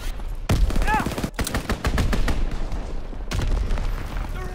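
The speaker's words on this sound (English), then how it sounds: "Fighter pilot inbound. Strafing the target." A fighter plane strafes the target during a Call of Duty WW2 multiplayer Domination match, heard as loud bursts of rapid machine-gun fire and booms separated by short gaps, with a voice briefly heard in the mix.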